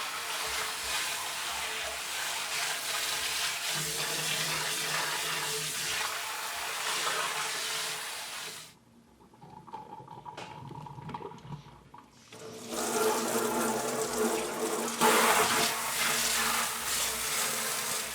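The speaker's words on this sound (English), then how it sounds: "rinse it down with a hose" A hose rinsing out Brewtools brewing equipment, a loud, close rush of spraying water that briefly drops away mid-way, then surges back strongly.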